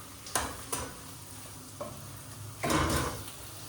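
Egg frying in a pan while being stirred: a soft steady sizzle broken by a few sharp spatula scrapes and one longer stirring scrape near the end, close and alone.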